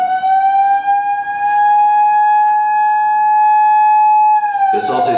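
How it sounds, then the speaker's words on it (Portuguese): Steady wailing bakery siren in Brazil sounding to signal fresh bread is ready, a sustained tone with strong harmonics that falls away near the end as a voice begins. "Essa sirene quer dizer que o pão tá pronto lá na padaria."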